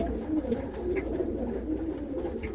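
Breeder pigeons at a pigeon farm coo steadily in a low, rolling murmur, several birds close by with no talk over them.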